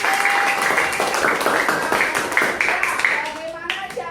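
Schoolchildren in a classroom clap for a classmate in quick, lively applause with a few voices calling out over the clapping, which thins out near the end.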